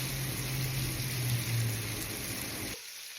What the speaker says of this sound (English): go ahead and put the rest of those in. Let them sit there for a couple minutes on each side and brown